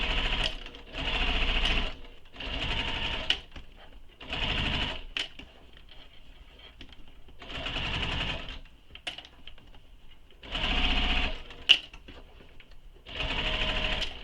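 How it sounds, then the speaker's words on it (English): A home sewing machine stitches fabric for a shoulder bag, running in steady whirring bursts of one to two seconds separated by short pauses, close and fairly loud. "if you need to stop to shift your fabrics, always make sure your needle is down before you lift up that presser foot"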